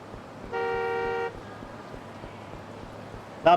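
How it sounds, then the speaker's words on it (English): Car horn in the video game Yakuza 5: a single sustained honk of just under a second, then low background hum and a brief sharp sound at the end. "Stop honking at poor Kiryu."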